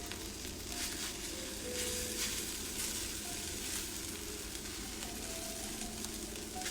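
Crepe batter cooking in a hot pan, a steady dense sizzle and crackle of frying that holds evenly throughout, close and moderately loud, with no speech.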